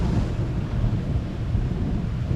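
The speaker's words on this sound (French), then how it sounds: "Ah, pour une fois, on a eu un bon orage." Heavy thunderstorm over Liège, Belgium, with a deep, continuous rumble of thunder mixed with wind and rain noise, loud and sustained for a couple of seconds.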